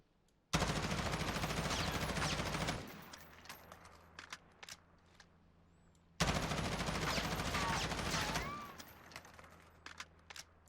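M4 rifle fitted with a Commando foregrip firing in Warzone: two long sustained full-auto bursts of about two seconds each, loud and close, separated by quieter pauses with faint clicks and ambient noise.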